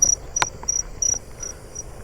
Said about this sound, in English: I just heard a lesser angle wing behind me.